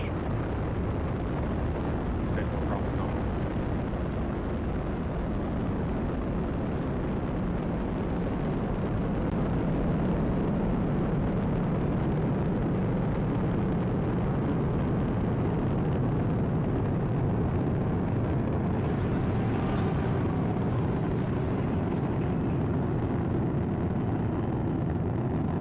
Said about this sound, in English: Ignition, liftoff. Vehicle is pitching downrange.